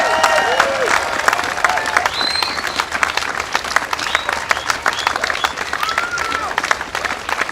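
A rally crowd at a climate change and coal protest in Missoula applauds its speakers, with dense, sustained clapping and scattered cheers and whoops carrying on for several seconds, mixed with people talking.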